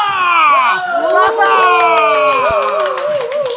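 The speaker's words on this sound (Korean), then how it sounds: "박수! 박수!" An audience welcomes a table tennis lecturer at a ping-pong talk with loud, sustained cheering and excited shouting voices, some of them children's, over scattered claps throughout.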